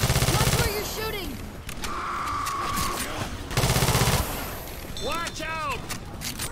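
Rapid automatic gunfire from Left 4 Dead rattles out in two loud bursts, with game effects and voices talking between and over the shots.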